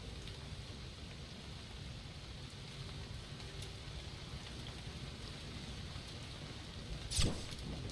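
Acid rain falling in the game Starbound, a steady hissing downpour at moderate volume throughout, ending with a brief sharp crackle near the close.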